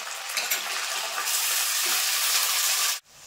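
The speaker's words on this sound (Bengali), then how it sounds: "এবার দিয়ে দেবো পেঁয়াজ বাটা পরিমাণ অনুযায়ী।" Onion paste hits hot oil in a pan for Pabda fish curry, giving a loud, steady sizzle that fries alone for about three seconds before cutting off abruptly.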